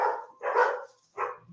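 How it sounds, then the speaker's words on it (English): Several dogs bark in three loud bursts close by, with short gaps between them and no other sound. "dogs are freaking out"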